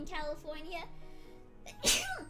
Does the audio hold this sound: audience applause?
no